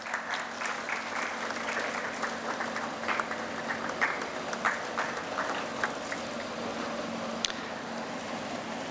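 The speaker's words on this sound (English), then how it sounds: "A round of applause, please." Steady round of applause at a medical expo in Goa, a fairly quiet, continuous patter of many hands clapping from a seated audience over a low hum in the hall.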